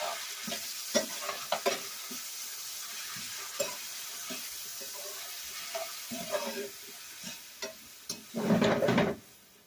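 Onions cooking in a pan for a Taino-style fish dish, a low steady sizzle broken by scattered stirring clatters and a louder burst of frying near the end.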